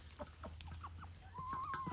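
Several hens cluck softly and irregularly close by, with short clucks overlapping and a drawn-out call toward the end, over a low background hum.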